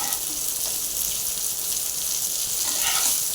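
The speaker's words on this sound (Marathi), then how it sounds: "मिडियम फ्लेमवरच त्याला चांगलं असं भाजून घ्यायचं" Bangda mackerel fries on a medium flame with a soft, even hiss that holds steady and fairly faint, swelling slightly toward the end.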